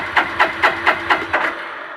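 Starter on a Suzuki GZ250 motorcycle with a freshly rebuilt starter clutch cranks the engine in six quick, evenly spaced turns, close and clear, then trails off without catching.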